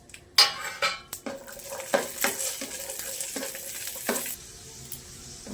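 Raisins fry in hot oil for basanti pulao, sizzling steadily as a spoon scrapes and clinks against the pan in irregular strokes.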